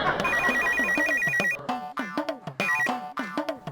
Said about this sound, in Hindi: मलिक साहब का फोन है।